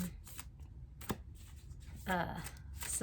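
Cards from a Mystical Shaman Oracle deck are shuffled in soft, papery riffling bursts during a tarot-style reading, with brief pauses between the shuffles.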